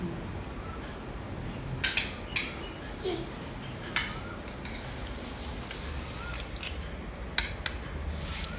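A spoon scooping food from a dish at a home meal, several light metallic scrapes and clinks spaced irregularly over a quiet room background.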